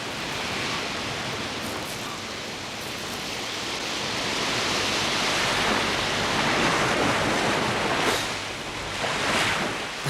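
Ocean waves wash up on a shoreline, a broad, steady roar of surf that swells and recedes in slow surges, fairly close and loud with no voices.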